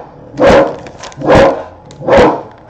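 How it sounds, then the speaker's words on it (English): A dog barks three times in an even rhythm, loud and close, with no talking over it. "Rose, don't bark."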